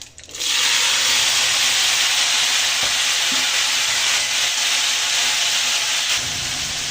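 Chickpeas with dried red chillies and curry leaves being stirred in a hot pan, a loud, steady sizzle and hiss with occasional scrapes of the spoon, close and continuous.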